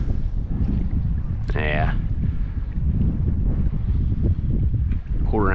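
Steady wind roars over the microphone on a boat while bass fishing with shrimp lures, a continuous low rumble that runs the whole time, with brief talk cutting in near the middle and end.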